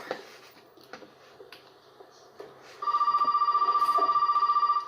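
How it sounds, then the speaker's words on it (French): A telephone rings in the Resident Evil 7 video game, a steady electronic trill starting partway through and continuing loud and unbroken after some quiet clicks and footsteps. "Téléphone qui sonne."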